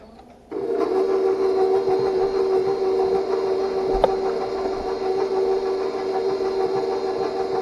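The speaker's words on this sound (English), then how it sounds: "we're going to mix this, beat it up till it's just creamy" An electric hand mixer starts up and beats apple cake batter with a steady, close motor whine that holds unchanged for about seven seconds. A single clack of the beaters against the bowl sounds partway through.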